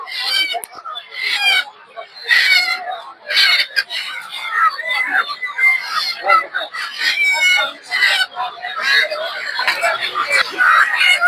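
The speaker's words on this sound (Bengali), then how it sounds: "দেখতে পাচ্ছেন এদিকে হচ্ছে দেশি মুরগি এগুলো সব" Native country chickens and roosters clucking and squawking loudly at a live poultry market, a dense, busy chorus of overlapping calls close by, with people talking among the birds.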